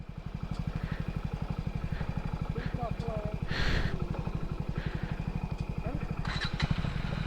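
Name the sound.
motorcycle on off-road trail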